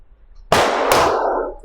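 A PSA Rock 5.7x28 pistol fires outdoors at a range, one loud sharp report followed quickly by a second, with a long ringing decay.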